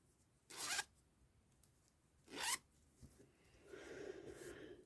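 A clothing-style zipper on a fabric pouch is pulled by a plaited cord pull: two short, quiet, sharp zips a couple of seconds apart, followed by softer fabric rustling, with no voices.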